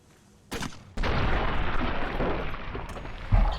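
A mercenary grenade rifle fires in a video game, with a sharp launch crack followed by a loud, sustained explosive roar that rumbles and fades, then a final heavy thump, all close and without talk.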